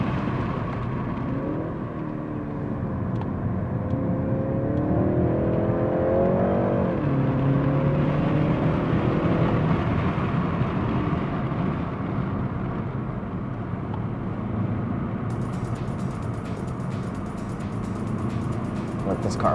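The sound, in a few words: car driving laps on Zandvoort Formula 1 circuit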